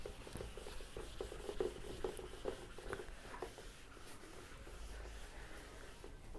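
A classroom board being wiped clean during a maths lesson, with soft, repeated scratchy rubbing strokes at a steady rhythm, faint and close in a quiet room.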